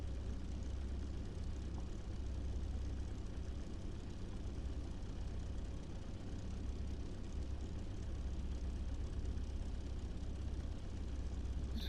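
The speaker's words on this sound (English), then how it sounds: "I hear tapping noises." A game aircraft engine in The Crew 2 idles with a rough tapping fault, giving a continuous heavy low hum at an even level throughout, with no voices over it.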